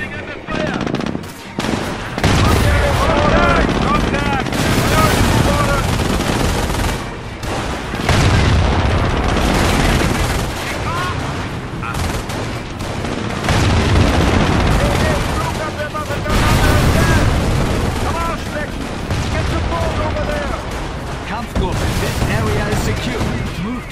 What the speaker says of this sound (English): We are coming under fire!